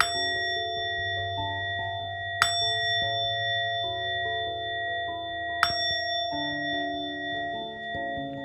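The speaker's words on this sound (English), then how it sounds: "They always, every 2-3 minutes, the bell is rung to keep the mind alert." Buddhist ceremonial bell struck three times, near and bright, each strike ringing out in a long sustained tone that overlaps with lingering resonance and gentle tonal hum; no voices are heard.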